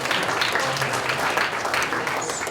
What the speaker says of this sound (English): Round of applause for Nick Wilcox, our NID director.